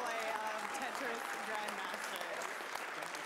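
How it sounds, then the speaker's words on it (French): Steady, dense applause from an audience at a Tetris: The Grandmaster exhibition, moderately loud and continuous throughout with no pauses. "Et encore un tonnerre d'applaudissements là pour tous les joueurs de, euh, Tetris"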